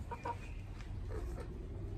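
Soft, scattered clucks from a few chickens basking close by in the morning, brief and intermittent over a low background rumble.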